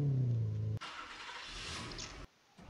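A car engine in a Unity car garage mobile game, opening with a low idle rumble, then a sudden switch to a hissing revving roar that cuts off abruptly, followed by a brief quieter tail.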